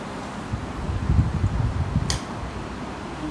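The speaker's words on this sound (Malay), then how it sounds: "Tolong tutup kipas ni boleh?" Electric fan running in a room during a Maulidur Rasul religious gathering: a steady, close, breathy whoosh with a light rustling flutter and one sharp click near the middle.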